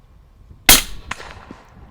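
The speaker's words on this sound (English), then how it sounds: "As it's coming down, we're gonna shoot and it's gonna fall into it." A single sharp rifle shot with an OSIGHT red dot sight rings out near and loud, followed by a fainter impact or echo about half a second later, outdoors at a shooting range.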